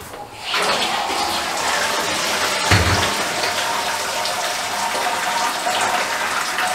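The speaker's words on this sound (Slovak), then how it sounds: "Na vysladzovanie použijeme vodu z zavárača z Lidla." Water from a Lidl preserving boiler pours steadily for sparging grain during home beer brewing, a loud, continuous close-up gush that runs for several seconds without pause.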